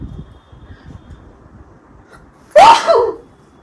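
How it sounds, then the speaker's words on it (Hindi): A single loud, close sneeze bursts out near the end, preceded by quiet outdoor background with faint rustling. "ये छींक सी आ रही है।"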